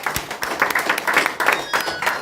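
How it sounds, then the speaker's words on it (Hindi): Audience applause at a Ramayan gathering, a steady wash of many hands clapping together, fairly close and continuous throughout with no talk over it. "तालियां द्वारा इनको हम धन्यवाद दें।"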